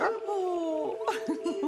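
A cartoon Saint Bernard lets out a few short, whimpering yips and woofs close by, with a brief spoken exclamation over them.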